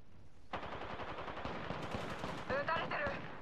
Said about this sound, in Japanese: 発砲中。